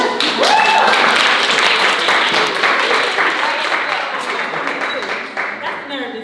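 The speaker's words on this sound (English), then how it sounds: "Y'all got clap for her." Applause from the audience at an evening pitch competition, a dense burst of clapping that starts strong and slowly tapers, with cheering voices and a brief whoop mixed in early.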